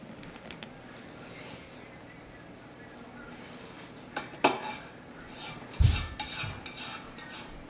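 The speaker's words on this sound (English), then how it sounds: "you're going to use a spatula and get all the sauce out" Spatula scraping macaroni pie sauce from a pot in a home kitchen, with soft rubbing strokes and a few sharper clinks and scrapes against the pot toward the end, close and moderately loud.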